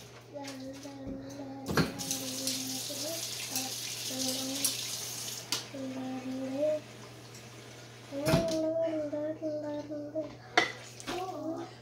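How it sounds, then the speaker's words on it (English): Water pours into a cooking pot in a home kitchen, a running splash under a voice talking over it. "I'm going to add a smidge of water to this."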